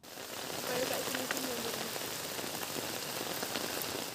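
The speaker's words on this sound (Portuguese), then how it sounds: "A chuva forte que atingiu a Indonésia provocou ao menos 15 mortes." Heavy rain falls steadily across the whole span in Indonesia, a dense, even hiss with no breaks.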